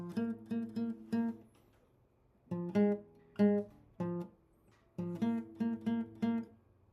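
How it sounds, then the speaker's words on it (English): A bass guitar plays the bass line of a reggae song in three plucked groups of notes separated by brief pauses, clear and alone. "whereas the first time around the bass line sounds like this"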